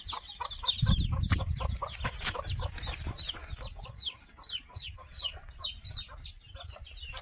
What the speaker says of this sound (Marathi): तिथे काही वरती त्यांनी खूड कोंबड्या अंड्यावरती बसवलेल्या आहे.